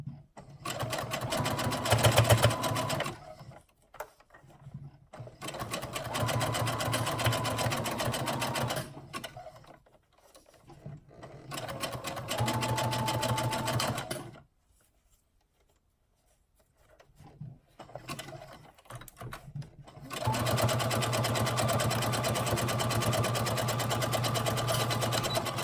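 A sewing machine stitches a bra cup onto its frame in several sustained runs, loud and steady, separated by brief pauses and a longer silent gap before a final long run.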